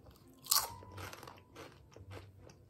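Close, quiet crunching and chewing of rippled poulet braisé potato chips from France, with a sharp bite followed by several softer crackly chews and no talking.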